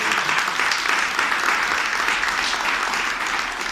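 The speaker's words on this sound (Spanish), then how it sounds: "Denle un aplauso al Señor." A church congregation claps steadily and loudly for the full stretch, a dense wash of applause with no voice standing out above it.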